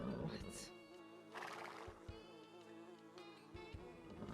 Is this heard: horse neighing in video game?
yes